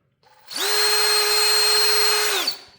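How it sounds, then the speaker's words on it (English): A power drill runs steadily for about two seconds as it bores through pre-drilled holes in the new window felt into a 1968–72 Chevelle or El Camino door panel, with a loud, close whine that spins up and winds down. "So I'm going to go right through the pre-drilled holes into the door panel."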